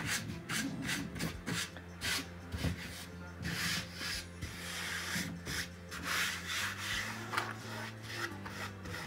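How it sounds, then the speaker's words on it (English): Cinnamon is rubbed by hand into paint on thrift-store farmhouse decor, producing continuous close scratchy rubbing strokes in a quick irregular rhythm over background music. "Just kind of rub it into the paint."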